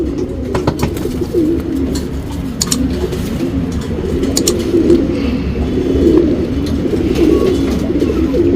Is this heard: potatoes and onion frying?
no